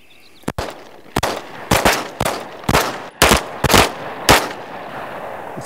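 Handgun shots at a shooting range in a grip-and-dot-tracking drill, loud and close, fired in a quick irregular string of sharp reports with echoing tails.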